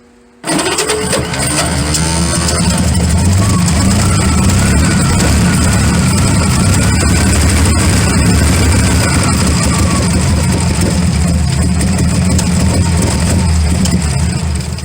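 A 1928 Franklin car, 71 years off the road, fires up on its first start and runs loudly and steadily at a rough idle, close by, with people talking faintly over the engine.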